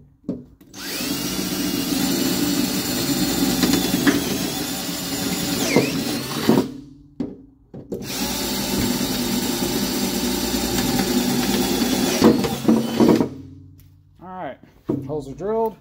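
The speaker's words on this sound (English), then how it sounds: "Holes are drilled, just deburr these and hopefully we're good to go." Power drill boring 7/16 inch holes for a Kirkey seat back brace, two long loud bursts of whining drilling separated by brief pauses, with a short tapering spin-down at the end.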